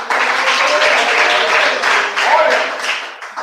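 Church congregation clapping hands together, a dense, lively burst of applause from a crowd, loud and close, filling the whole moment before fading slightly.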